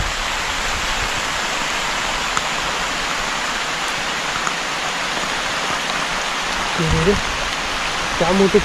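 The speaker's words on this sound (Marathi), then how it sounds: "भरपूरमध्ये भरपूर पाऊस आहे बाहेर आणि वारा पण आहे" Heavy rain with wind pours down outside a bungalow in Satara during monsoon camping, a dense steady hiss of rainfall with brief voices near the end.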